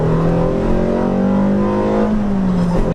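A modified 200 BHP Ford Fiesta MK6 engine revs hard with a deep, throaty drone whose pitch climbs and holds, loud and close, before cutting off abruptly at the end.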